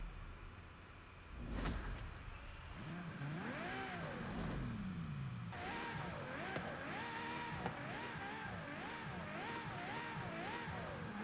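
Ferrari FXXK Evo V12 in the Forza racing game, loud engine revving and rising through gears with wavering pitch sweeps and sustained high-revving howl, no voices.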